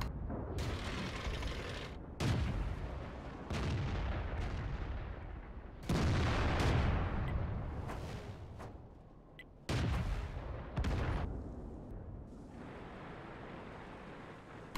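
Artillery in the World of Tanks video game fires in heavy, booming blasts, several loud separate shots with rumbling tails spread across the stretch, alone without talk.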